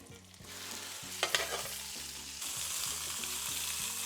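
Pork shoulder browning in olive oil in a pan, giving a steady close sizzle with a few clattering stirs and scrapes partway through.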